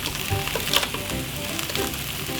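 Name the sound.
sausages frying in a pan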